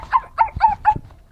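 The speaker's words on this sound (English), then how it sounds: "Okay, Junior, here's your little puppy" A puppy gives a quick series of four high, yappy barks close by, followed by a softer trailing yip, with no talking.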